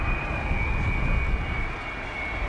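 Jet bomber flying past at an RAF Scampton airshow in 1989, a steady loud engine roar with a thin whining tone running throughout, no voices.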